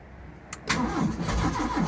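An old car's engine cranks over with the choke fully on: a sharp click, then a steady, rhythmic churning of the starter close by, loud and uneven as the motor tries to catch.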